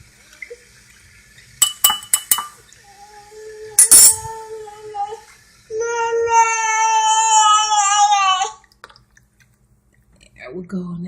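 A spoon stirs about a teaspoon of sweetener into a hot home-remedy drink for a cold or cough, a steady close clinking and swirling run lasting a few seconds, with scattered taps and brief talk before it.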